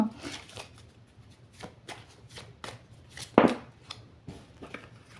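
Playing cards handled and cut from a deck during a card reading, a series of brief papery riffles and snaps, one louder flick near the middle, with quiet speech-like murmurs underneath.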